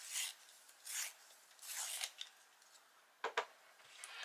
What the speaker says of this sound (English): So I need my purple lake, which I need to sharpen for that.